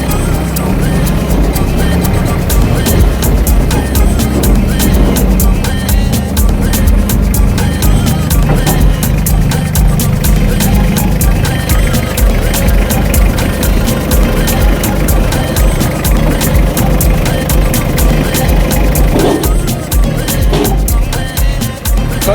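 A Toyota Land Cruiser engine runs loud and close, a steady rough rumble that carries on without a break.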